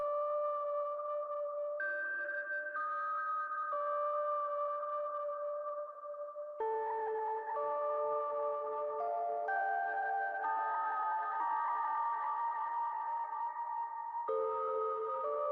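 Bright Rhodes electric piano synth tones playing a slow sequence of sustained chords, clear and fairly loud with no voices.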